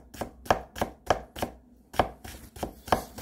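A sharpened chef's knife chopping vegetables for a fresh salad on a cutting board in an omakase kitchen, a run of crisp, even knocks close by with short pauses, and no talking.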